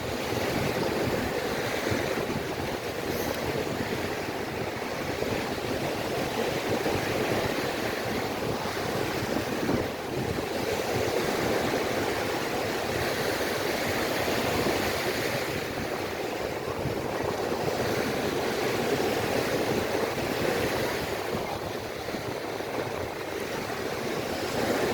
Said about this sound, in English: Man, that was probably the first wave of the day.